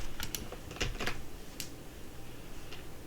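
Someone types code on a computer keyboard while working on a Spring Boot REST API, a few quick key clicks and a sharper tap in an irregular burst before the typing trails off.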